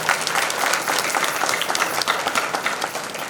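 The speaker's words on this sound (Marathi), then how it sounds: "आणि म्हणून जेवढे गायक आहेत त्यांच्याकरता एकदा जोरदार टाळ्या वाजवा।" Loud, sustained applause from an audience at a Shiva devotional kirtan gathering, honoring the singers; dense clapping fills the whole stretch at steady intensity, with no voices standing out.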